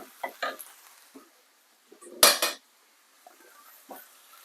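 A spoon scrapes and clinks against a pan while ackee and saltfish are gently stirred, a few soft knocks and one louder scraping clatter, close by, with brief quiet gaps between.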